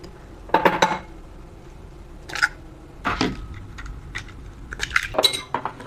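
Eggs are beaten in a bowl for a seaweed popia snack, with close, irregular bursts of a utensil clinking against the bowl between brief quiet gaps, and no talking.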